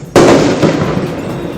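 A firework rocket bursts outside near a town square during protests, with one sharp, loud bang followed by a rumbling decay that fades over about a second and a half.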